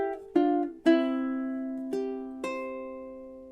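A ukulele picks a short melodic phrase from a tune, five clear plucked notes ringing out alone, each sustaining and fading before the next.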